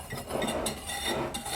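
A spoon stirs salt into a vegan omelette mixture in a bowl, giving soft continuous scraping with faint clinks, close and moderately loud.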